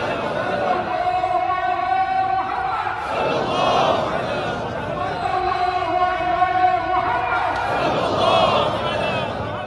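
Large crowd of PN supporters rallying near the Palace of Justice in Putrajaya after prayers, a steady dense roar of many voices with chanting swells rising and falling in waves, loud and continuous throughout.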